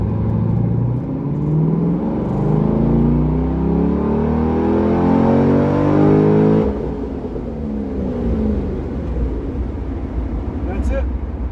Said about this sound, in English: I'll start out in second at a very low RPM and take it to a much higher RPM at wide open